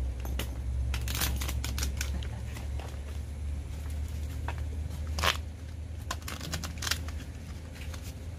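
A deck of playing cards is shuffled close by, giving quick riffling flutters and sharp snapping clicks scattered over a low background hum.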